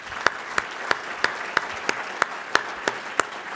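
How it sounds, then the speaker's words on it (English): Applause at a charity dining-in-the-dark dinner comes through as a steady run of about ten sharp, evenly spaced claps at a moderate distance, fairly quiet, over a soft room hush. "Here's a round of applause for Alan."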